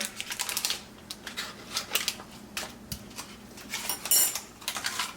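Soft boiled potatoes being mashed with heavy cream and butter in a pot over low heat, giving quiet, irregular clinks and squishy taps of a masher against the pot, close and faint with no talking.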